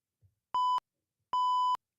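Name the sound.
beep sound effect played from a sound pad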